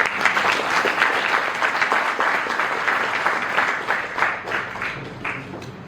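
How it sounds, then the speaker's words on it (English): A hall audience at a university event in Belagavi bursts into sustained applause to welcome a doctor to the stage, dense clapping holding steady throughout before easing slightly near the end. "please join me in giving a huge round of applause as we welcome Dr. J. Somashekar"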